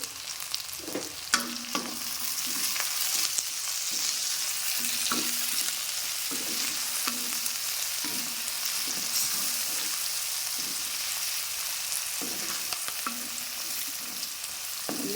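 Onions fry in a pan with split green chillies, curry leaves and a pinch of salt for a raw banana stir-fry, giving a soft, steady sizzle with occasional light stirring knocks.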